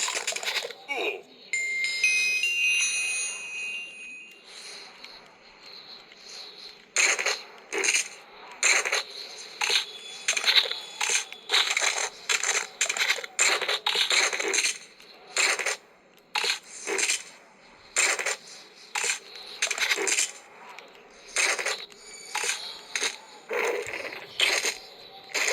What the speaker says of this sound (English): when I shake it, it activates the chase sequence